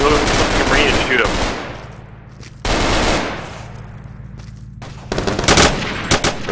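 Loud, dense bursts of automatic gunfire from a video game battle, rattling in several separate volleys with brief gaps between them, up close and dominating.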